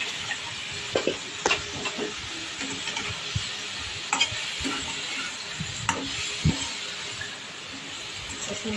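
Pumpkin and onion fry in a pan while being stirred, a constant sizzle with scattered scrapes and clinks of the utensil against the pan, close and steady throughout.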